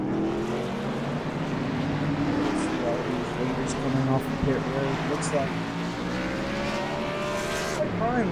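Race cars lapping a track during the Boyd Gaming 150, their engines droning and shifting pitch as they pass, running continuously beneath a commentator's voice.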